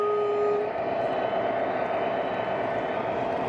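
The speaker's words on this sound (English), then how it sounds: "Ooh, that's a long train." A long train rolls past at close range during an amusement park's holiday lights event, a steady loud rumble with a brief horn tone near the start, continuous throughout.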